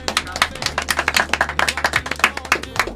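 Clapping for group of the year nominees at a music awards preview show, a small number of hands giving distinct, rhythmic claps close by, each clap clearly separated rather than blending into a crowd roar.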